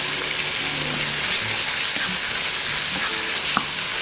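Garlic paste frying in a pan for shrimp sukka, a continuous close sizzle with occasional utensil clinks and stirring, no talking.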